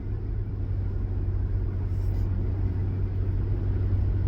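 Low, steady engine rumble and road noise from inside a moving car continue throughout at an even level.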